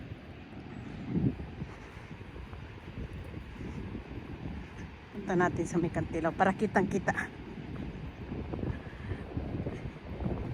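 Gusty wind at a beach buffets the microphone with a low, uneven rumble, and a person speaks briefly partway through.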